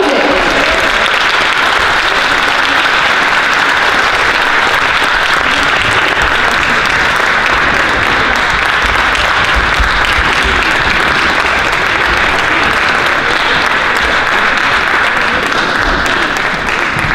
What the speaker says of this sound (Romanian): Haideți să primim cu aplauze!